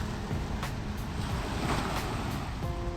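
Fast-flowing river floodwater rushes through the Harike headworks flood gates in Punjab as a loud, continuous roar of churning water with wind buffeting the microphone.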